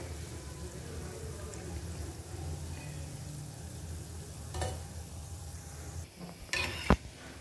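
Gulab jamun fry gently in oil over a low flame, a steady soft sizzle throughout with a few quiet stirring scrapes and a light clink near the end.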